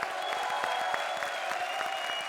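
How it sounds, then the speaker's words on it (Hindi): A TV comedy show studio audience claps steadily, individual claps audible in a busy rhythm, with faint cheering and a sustained musical tone underneath. "जोरदार तालियां एक बार फिर हमारी सारी जोड़ियों के लिए।"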